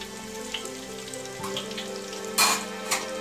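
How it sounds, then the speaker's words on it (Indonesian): Soft crackling sizzle of a green bean omelette frying in a pan, with a low steady hum beneath and a brief louder hiss near the end. "Kita goreng lagi."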